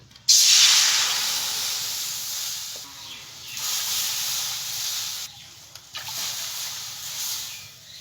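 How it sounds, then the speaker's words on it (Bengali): Water splashes into a hot wok after flour has been fried in it, setting off a loud, sudden burst of hissing steam that keeps roaring and slowly fades, with brief dips and swells. "তখন আমি কড়াইতে জল দিয়ে দেবো"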